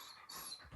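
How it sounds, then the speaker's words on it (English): A dog whimpers briefly in the background, a single faint, thin, high-pitched whine that ends almost at once. "I'm sorry for my dog whimpering over there."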